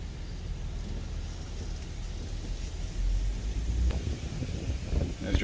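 Steady wind noise and road rumble from a car driving through the Candlewick Lake community on a very windy autumn day, with the low roar swelling louder toward the end.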